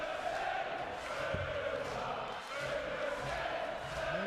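A darts crowd in a packed arena during a PDC Grand Slam of Darts quarter-final, a continuous murmur and rumble of many voices swelling slightly, steady and distant, with no single voice standing out.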